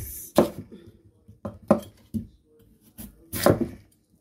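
Knife chopping ginger and potatoes into cubes for chicken adobo, a handful of sharp separate cuts on a board in an irregular rhythm, close and clear with quiet gaps between strikes.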